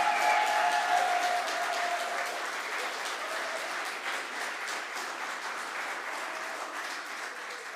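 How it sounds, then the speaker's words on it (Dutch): A school audience gives the graduating group 8 class a thunderous round of applause at a farewell evening, dense clapping that starts strong and slowly eases while staying continuous. "één daverend applaus voor deze toppers"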